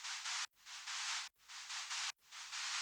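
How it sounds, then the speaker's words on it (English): A bright hiss of white noise swells in repeating rhythmic bursts, each cut off by a short gap, like a gated accent pattern following the kick drum in a song's background. "I have this tiny little pattern of white noise kind of going on in the background"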